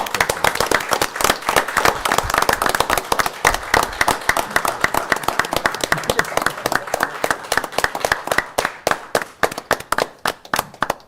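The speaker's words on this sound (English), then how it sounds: "I'd like to give these guys a pretty nice round of applause for the work that they put into this" Audience applause at a city council meeting, honoring golf course workers: dense clapping from a roomful of people, steady and loud at first, then thinning into sparser individual claps toward the end.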